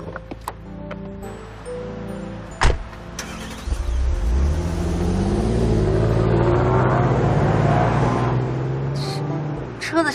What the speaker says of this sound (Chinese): 车子声音大就了不起。